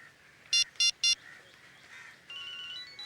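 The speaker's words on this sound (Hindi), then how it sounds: "ये तो सानिया दीदी की फोन की रिंग है।" A mobile phone rings nearby with three quick, loud electronic beep bursts in a row, followed by a steadier sustained tone over a quiet background.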